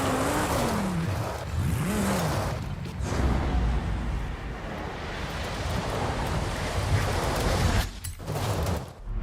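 A Volkswagen Golf GTI races in a driving video game, its engine a steady, loud broadband roar with a few rising revs near the start and brief dips toward the end, with no talking.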